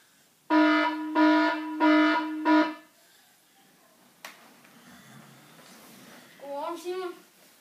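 An electronic alarm blares in four loud, evenly spaced buzzing bursts close by, then stops, leaving room noise followed by brief speech on a game show set, sounded to wake a hypnotised man.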